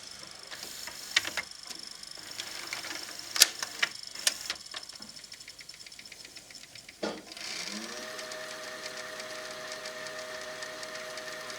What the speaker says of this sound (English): when you press fast forward, first of all the machine recognizes what kind of tape you've got in there